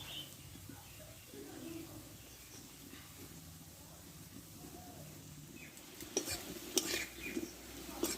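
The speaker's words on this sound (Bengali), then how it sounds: "দেখো বন্ধুরা টাইম নিয়ে একটু ভাজতে হবে তাহলে কী হবে বড়াগুলো একটু মুচমুচি ভাব আসবে" Lentil fritters with pointed gourd leaves fry in oil, a low steady sizzle close by for most of the time, then louder clattering scrapes and clinks of a utensil against the pan toward the end.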